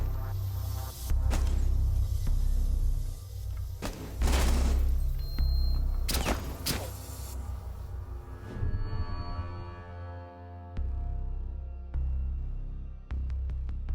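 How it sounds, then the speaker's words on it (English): A thermite charge detonates in a Rainbow Six college esports match, followed by bursts of in-game gunfire and booming impacts, several sharp loud blasts spread across a rumbling, continuous low background. "The moment that thermite charge went off, a lot of gunfire was exchanged"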